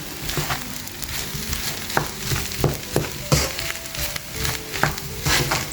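A potato dish frying in a pan as salt and sugar are mixed in, with a steady sizzle broken by repeated scraping stirs at an uneven rhythm, close and moderately loud with no voices.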